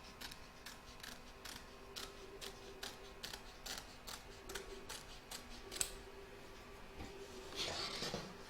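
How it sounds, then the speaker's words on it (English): Scissors snip through excess fabric from in-the-hoop machine-embroidered bunting in a quick, steady series of crisp, close cuts, ending with a soft rustle of handled fabric. "We're now going to trim up all the excess fabric from both the back and front"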